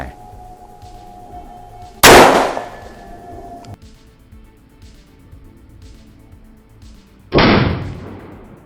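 A homemade Thai break-action pistol firing a sugar pellet gives two loud, sharp bangs several seconds apart, each with a short ringing tail, set against a quiet background.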